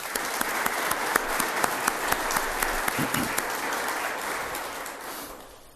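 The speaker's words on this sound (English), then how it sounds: "let's give a big round of applause to Jaynes Corporation" Audience at a fire station ribbon cutting ceremony breaking into loud, sustained applause, dense clapping from a crowd that holds steady and then slowly tapers off.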